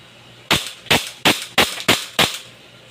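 A folding FMG9 airsoft gun fires six single shots in semi-automatic mode, each a sharp close snap, in an even rhythm about a third of a second apart.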